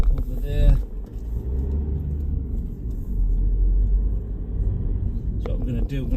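A Vauxhall Astra 1.6 CDTi Sports Tourer estate drives along, with a low road and engine rumble steady under the cabin and speech heard briefly at the start and end.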